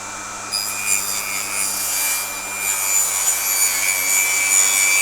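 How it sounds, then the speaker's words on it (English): A table saw rips a laminate flooring plank, with a steady high whine and a continuous cutting hiss that build slightly across the cut and keep going without a break. "All right, first method, table saw."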